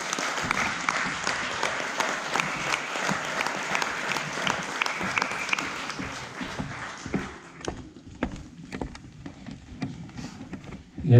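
A crowd claps loudly and steadily for several seconds at a Slovenian kayaking awards event, then the applause thins out into scattered individual claps before fading.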